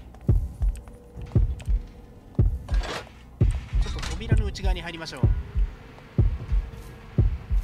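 A killer's approaching heartbeat pounds in Horrorfield, a loud, steady double thump repeating about once a second, with a person speaking over it and a brief murmur of other game sounds.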